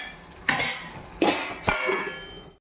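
Lid set onto a cooking pot of simmering mutton curry: three sharp metallic clanks, the first two about 0.7 seconds apart and the third right after, each ringing briefly and fading, close and fairly loud with no talk.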